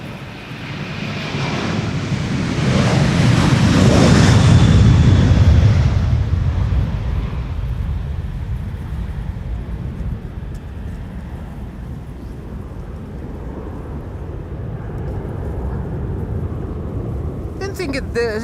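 A 14-year-old Fokker airliner departing Amsterdam Schiphol Airport thunders past loudly, its roar building to a peak within the first few seconds, then fading to a lingering distant rumble that rises slightly again near the end.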